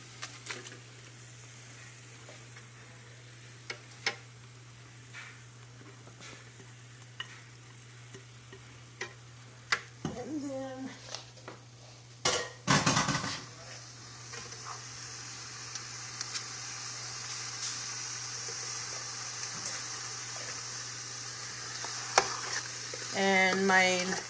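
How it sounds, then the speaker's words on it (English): Blended Lao cassia leaves are poured into a cooking pot and stirred, giving soft sloshing, scraping and faint sizzling over a steady background hum, with occasional clinks of utensils. "then I'm gonna pour it in here"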